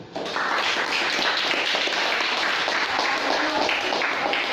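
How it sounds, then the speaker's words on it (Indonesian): A classroom of students gives a round of applause for a presenting group, steady dense clapping that starts abruptly and continues evenly throughout without talk. "kita beri aplaus dulu"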